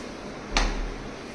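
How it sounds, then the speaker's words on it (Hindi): A door shut once in a room, a single fairly close thud-like knock with a short broadband burst, standing alone against quiet background hum with no talking. "दरवाजा बंद कर।"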